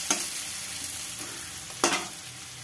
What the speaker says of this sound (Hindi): इसको फिर अच्छे से भून लेते हैं।